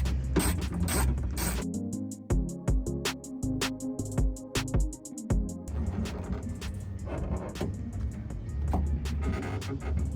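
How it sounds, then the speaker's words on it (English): A ratchet with a 10mm socket loosens bolts inside a Kia Sportage during a radio upgrade, producing a fast, steady run of mechanical clicks with a low rumble underneath, then softer scraping and handling noise. "Let's use a socket. So you'll have to grab your 10mm socket."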